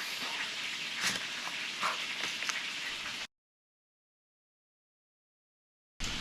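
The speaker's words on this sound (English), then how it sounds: "I love the sound of chicken frying" Chicken frying in hot oil gives a steady, close sizzling hiss with scattered crackles, then cuts to silence for a few seconds before briefly returning.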